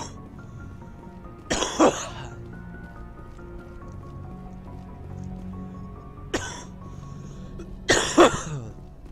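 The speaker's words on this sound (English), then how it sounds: "Coughing because I've got a cold." Character coughing from a cold in Mass Effect Legendary Edition, three short rough coughing bursts spaced apart over a low steady game ambience.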